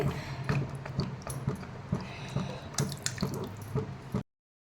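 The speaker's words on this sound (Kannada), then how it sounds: "ನೋಡಿ ಈ ಥರ ಕುದೀತಾ ಇದೆ" Water boiling hard in a pot for Maggi noodles bubbles and gurgles continuously with frequent small pops, fairly close and steady, before cutting off abruptly at the end.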